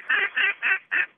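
A duck quacks five times in quick, evenly spaced honking bursts, loud and close with nothing else around it.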